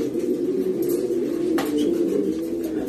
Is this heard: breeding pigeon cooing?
yes